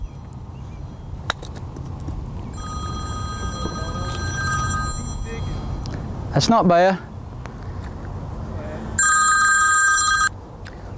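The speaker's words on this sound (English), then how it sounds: "Phone's ringing." A telephone rings in electronic bursts, first a long tone and later a second loud ring, near and clear over steady background noise, with someone talking briefly in between.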